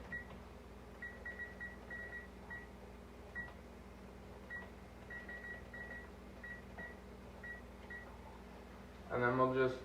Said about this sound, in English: we'll just set a timer for about 8 minutes.